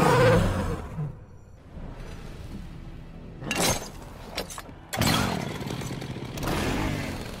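A chainsaw revs in a Mortal Kombat XL fighting-game intro, with loud rising and falling bursts of buzzing engine noise mixed with whooshing game effects.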